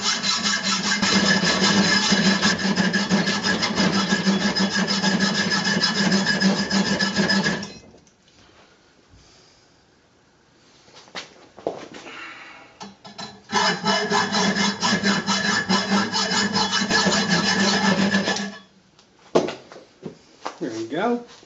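A hand saw fitted with a new 32 teeth per inch blade rasps steadily through wood in two long bursts of rapid strokes, separated by a quieter pause with brief knocks and handling sounds.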